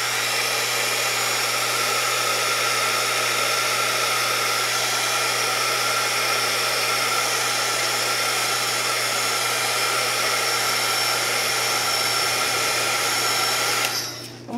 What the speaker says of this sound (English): So now we need the heat gun.